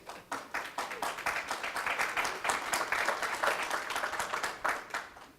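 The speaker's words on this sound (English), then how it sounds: "The applause is for Arizona for accomplishing a change." An audience at an Arizona civic event breaks into applause, a full, steady run of many hands clapping for about five seconds before fading near the end.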